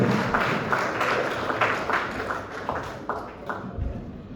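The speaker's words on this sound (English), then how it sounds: "a round of applause once more, please" An audience applauds at a school multiplication-facts competition, a steady broadband patter of many hands clapping at moderate level throughout, fairly even with a few sharper individual claps.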